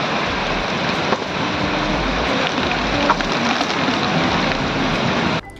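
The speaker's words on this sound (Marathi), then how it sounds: "अखेर विजांच्या कडकडाटांसह पावसानं जोरदार हजेरी लावली।" Heavy thunderstorm rain pours down in a dense, continuous roar of water on surfaces, loud and steady, with a few sharp knocks and a sudden cutoff near the end.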